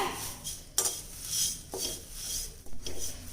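Spinach fries over a low flame in a pan, with a ladle scraping through the leaves in repeated close strokes over a constant background hiss.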